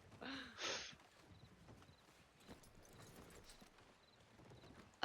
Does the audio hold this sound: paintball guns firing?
no